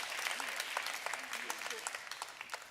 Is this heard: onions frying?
no